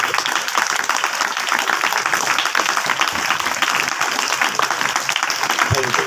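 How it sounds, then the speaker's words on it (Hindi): Students at a public school applauding loudly, a dense, sustained burst of clapping from a large group filling the whole stretch. "जोरदार ताली बजाओ।"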